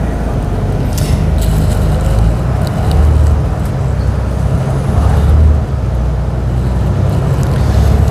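Transperth route 513 bus rumbles along between Fremantle and Murdoch stations, a loud continuous engine drone and road roar heard from inside the vehicle, steady throughout with no speech.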